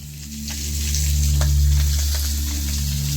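Small fish sizzle and spit in hot oil at an outdoor picnic near a green tea garden and forest, a steady, close frying crackle with scattered pops that swells slightly midway, with no talking.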